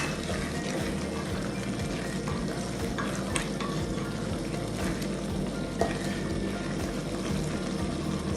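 Bean curry with black pepper and desiccated coconut stirred in a pan, a continuous soft sizzle and simmer with faint scraping strokes throughout, steady and close.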